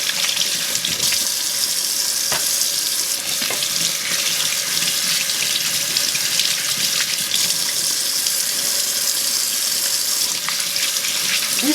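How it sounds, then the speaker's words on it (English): A kitchen tap runs steadily into a sink while tomatoes are washed, making a continuous close splash and hiss with small knocks and shifts of water hitting the produce and basin. "I'm going to wash the tomatoes before I cut them."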